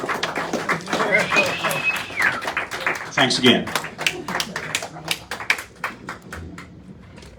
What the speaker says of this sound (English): One more round of applause for Dan Taylor, James Camp, and Jackie D.